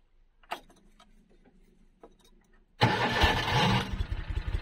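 A pickup truck engine cranks and catches at a beach, a loud sustained rumble bursting in after quiet moments of small clicks and handling noises, then running steadily.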